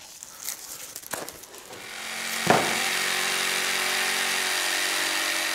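Electric jigsaw cutting the outline of a pair of handmade wooden skis in a workshop, with a few sharp knocks before the blade settles into a steady, loud, continuous buzzing cut that runs alone to the end.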